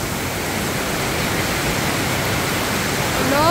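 Floodwater rushes in front of a house, a loud, steady broadband roar of churning water that holds constant throughout and swells slightly near the end.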